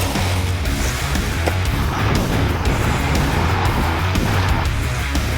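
A mini RC basher car's electric motor runs at full throttle with a loud, constant whine and rumble, while scrabbling tires and bumps over the ground break through close by.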